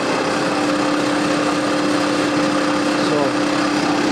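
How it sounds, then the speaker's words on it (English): Steady mechanical hum of a smog pump running for a waste oil stove one floor below, a constant droning whine with a clear tonal line that continues unbroken throughout, fairly loud and close in the room. "that's the smog pump running for the waste oil stove downstairs."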